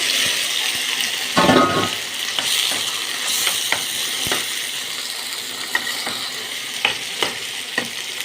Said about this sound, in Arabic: ابدا انزل بالبطاطس اللي انا سلقاها